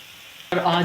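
Garlic hits hot oil for a tadka for whole green moong dal: quiet, then a sudden loud burst of close sizzling that carries on to the end of a very short moment.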